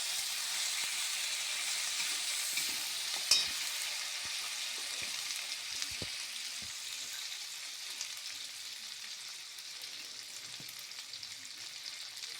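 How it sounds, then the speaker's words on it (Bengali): Cooking oil spatters and sizzles in a pan on a gas stove while turmeric and cashews cook, a continuous bright hiss with scattered sharp pops, one louder crack early on, and no talking. "তেলটা ছিটছে"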